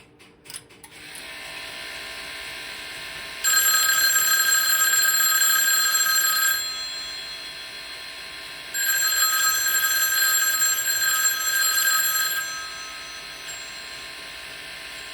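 A weak, rattling vintage Automatic Electric telephone bell rings in two sustained bursts with a gap between them, thin and buzzy rather than clear, struggling at its ringing frequency.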